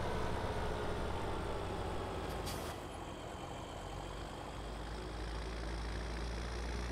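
A tractor engine in Farming Simulator 2017 runs at a steady, loud, rumbling drone, with a brief airy hiss partway through.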